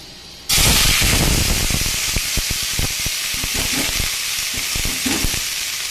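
Boiled banana stem dropped into a pan of hot tempered oil sets off a sudden loud sizzle that keeps hissing and crackling steadily, with stirring clicks scattered through it.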